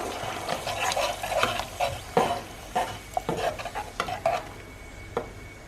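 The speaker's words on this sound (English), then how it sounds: "And sauteing some garlic." A utensil stirs and scrapes in a pan with irregular taps, over a soft sizzle of garlic sauteing.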